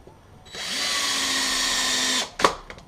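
A screw gun drives a screw into a DIY landing gear outrigger pad: one steady, high motor whine lasting nearly two seconds, rising slightly as it bites, then stopping abruptly, followed by a sharp knock and small clatter.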